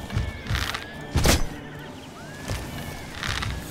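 A horse in Oblivion whinnying as it is kicked, with a few dull thumping impacts and a brief high whinny rising over a close, busy game background.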